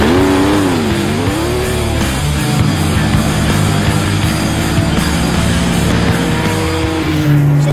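Porsche 993 GT2 race car engine driving hard, loud and close, with rising and falling revs and gear changes, and tires squealing under the engine.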